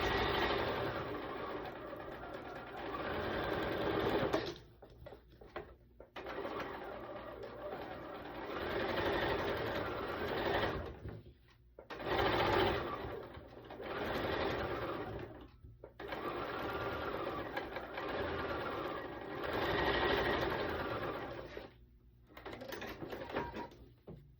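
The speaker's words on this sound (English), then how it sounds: "now I'm just going to sew the 2 sides together." Bursts of a sewing machine's rapid motor whir and needle clatter as two quilt block sides are stitched with a quarter-inch seam, several runs of a few seconds each broken by short pauses, close and clear with no talk.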